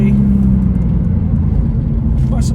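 A BMW M3 sports car rolls past on a winding mountain road, its steady engine drone loud and close for the whole stretch, with a person talking over it.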